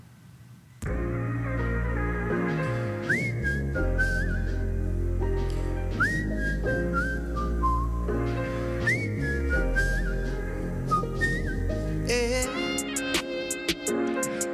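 A live whistling performance at a Bahamian evening show: a solo whistler carries a sliding, bending melody over a steady musical backing for the whole stretch.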